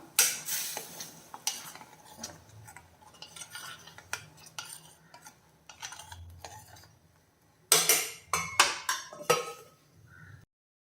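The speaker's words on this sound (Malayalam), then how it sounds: "തുറന്നു നോക്കിയിട്ടൊന്ന് ഇളക്കി കൊടുക്കാം" A spoon stirs and scrapes around a pot of okra curry in repeated strokes, with soft sizzling underneath and a louder burst of stirring near the end.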